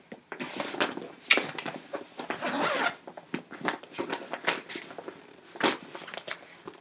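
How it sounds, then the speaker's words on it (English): A bag zipper rasps open in several quick pulls, close and crisp, with short scratchy strokes and brief pauses between them. "when you unzip the bag"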